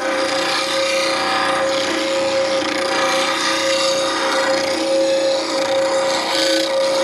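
Bench grinder shaping an Ellsworth grind on a woodturning bowl gouge, a steady loud whine with continuous gritty grinding hiss as the tool is swept around, close up and alone.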